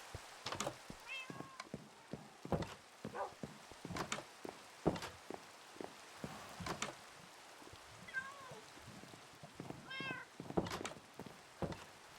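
Cats meow repeatedly in the video game Minecraft, short close calls at an uneven rhythm, mixed with soft thumping blocky footsteps and clicks across a quiet background.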